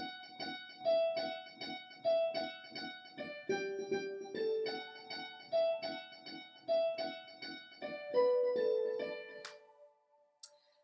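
Piano plays repeated chords and single notes in a steady pattern, each note echoing back softly from a delay, with no voices.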